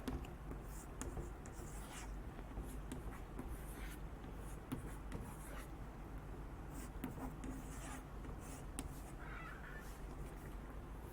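A pen moves across paper while a simple network diagram is drawn for a lecture, giving a soft, continuous scratching and scribbling that runs steadily at close range over low background noise, with no talking.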